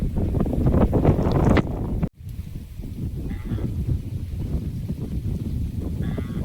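Strong storm wind buffets the microphone outdoors beside a lit cooking stove in loud, rumbling gusts, with a brief cutout midway before the blustery roar continues.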